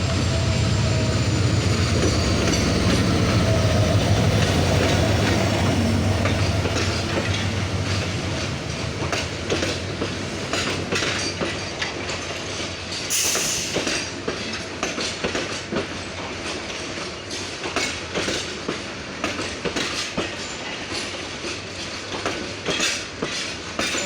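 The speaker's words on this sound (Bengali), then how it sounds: "ঢাকাগামী রংপুর এক্সপ্রেস ট্রেনটি বর্তমানে সান্তাহার জংশন ইন করলো" The Rangpur Express passenger train rumbles close by arriving at Santahar Junction, its wagons rolling in with rhythmic clickety-clack and brief squeals as the steady roar slowly eases.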